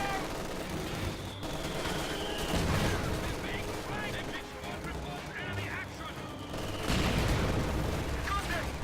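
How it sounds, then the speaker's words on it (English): MG42 machine-gun fire in a strategy video game comes as bursts of rapid shots amid other battle noise, with a commentator speaking throughout. "MG42 firing at a couple squads right there"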